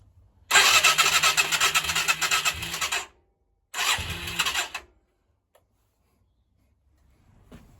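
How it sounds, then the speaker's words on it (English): A Yamaha XV535 Virago motorcycle engine cranks and fires up for about two and a half seconds. Then comes a quiet gap and a second, shorter start-up before it falls silent. Both bursts are close and fairly loud. "we turned it over to fill up the oil. We did fire it up for just for a couple of seconds"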